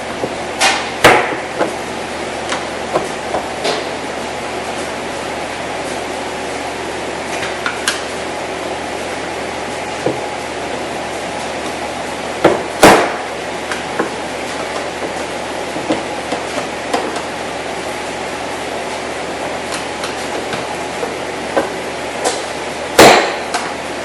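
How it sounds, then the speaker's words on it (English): A screwdriver pries the door panel clips off a 2008 GMC Yukon. A few loud, sharp snaps stand out over a long stretch of quiet background with faint scattered taps, and no one speaks. "You slide it in the back and you just pry it and it comes out."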